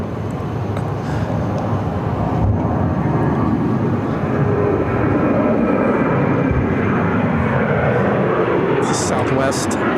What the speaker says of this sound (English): Southwest Flight 2121 headed to Chicago Midway on a 737-800